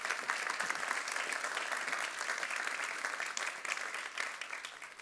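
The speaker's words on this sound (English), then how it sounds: "Big round of applause." Steady audience applause at a waste-reduction challenge kick-off event, a dense, even patter of many hands heard alone, fading slightly at the end.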